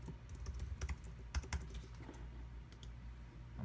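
A password goes in on a computer keyboard as a quick run of close, faint key clicks in uneven bursts, with no talking.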